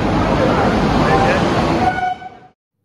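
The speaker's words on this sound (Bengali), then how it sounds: "দেখতে দেখতে আমাদের ট্রেন চলে এসছে।" Passenger train arriving at Asansol railway station, a loud close rumble of wheels and carriages with a horn-like tone near the end before the sound cuts off abruptly, with people talking over it.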